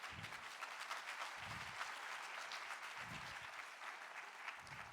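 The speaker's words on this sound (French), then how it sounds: "vous pouvez applaudir les gens qui ont le courage de venir" An audience claps continuously, dense steady applause with no voices over it.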